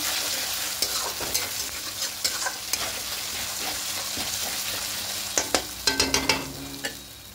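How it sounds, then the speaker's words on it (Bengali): Ginger, garlic and green chili paste sautéing in a pan for a chicken malai curry, with a steady soft sizzle punctuated by repeated clinks and scrapes of a spatula stirring, loudest in a quick cluster near the end. "একটু ভালো করে কষিয়ে নেব আদা রসুন আর কাঁচা লঙ্কার পেস্টটা"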